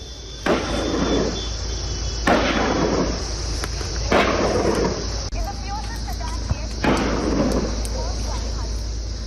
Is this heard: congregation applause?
no